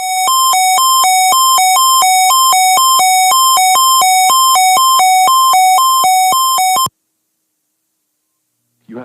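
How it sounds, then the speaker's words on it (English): A loud, piercing NOAA Weather Radio warning alarm test tone warbles rapidly between two pitches for about seven seconds, then cuts off abruptly into silence. "a test of the National Weather Service radio warning alarm feature"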